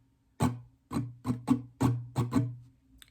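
Seven sharp guitar strums in an uneven rhythmic pattern, each ringing briefly before the next, played alone and close.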